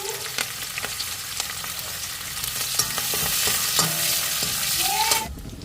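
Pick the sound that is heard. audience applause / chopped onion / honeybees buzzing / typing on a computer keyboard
chopped onion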